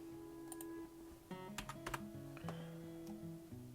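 Rapid keystrokes on a computer keyboard while writing Python code, with irregular bursts of clicks and short pauses, heard close over a faint steady tonal background.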